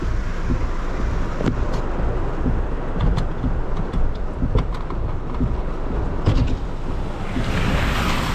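Floodwater rushes and splashes around a car driving through heavy rain in Macau, a loud continuous roar of water with scattered sharp splashes and wind buffeting.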